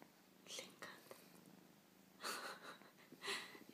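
A young kitten purrs close up in soft, faint bursts that alternate with quiet breathing-like gaps.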